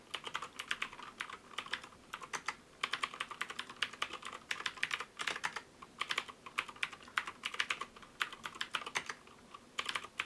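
Fast, steady typing on a computer keyboard while entering spreadsheet data, with dense clusters of crisp keystrokes, brief pauses between bursts, and no talking.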